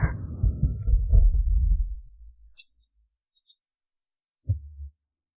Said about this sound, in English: Secretary Yi, your heartbeat is too loud.